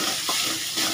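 Tempering for a mint chutney frying in a pan, a close, loud, continuous sizzle with a couple of brief swells, heard alone.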